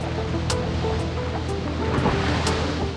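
Ocean swell and waves wash steadily against a boat hull at sea, a constant broad rushing roar with some wind noise and no pauses, with no voices present.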